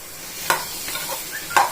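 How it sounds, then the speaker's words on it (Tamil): Spices, vegetables and chopped greens stalks sizzle quietly in a pan while a utensil stirs and scrapes a few times, close by, no talking. "நல்லா வதக்கி விட்டுக்கலாம்"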